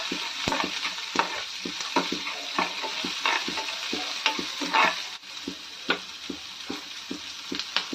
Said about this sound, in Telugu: ఇప్పుడు వీటిని బాగా ఫ్రై చేసుకుందాం ఆయిల్లో